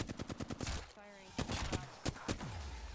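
Rapid video game gunfire crackles in quick bursts, with short pauses between volleys, while a player talks over it.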